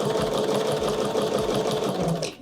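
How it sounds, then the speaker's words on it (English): A sewing machine runs steadily while stitching a quilt block, with a continuous close whirring hum and fast rhythmic needle pulses that slow and stop at the end. "as I feed through the sewing machine"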